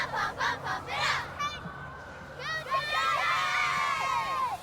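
A youth football cheer squad, the Lake Norman Giants, chants and shouts in rhythmic bursts of young voices, followed by longer cheering cries, with crowd noise beneath at a Pop Warner game.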